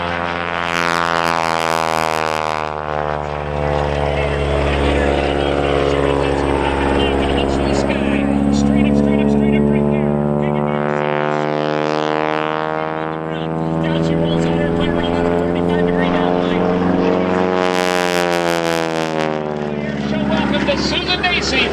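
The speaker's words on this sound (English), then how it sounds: "she powers that airplane straight up and across the top" Big Red, an open-cockpit biplane flown at an airshow in Waukegan, powering up with a loud, sustained droning engine that swells and shifts in pitch throughout, while an announcer talks over it from a public address.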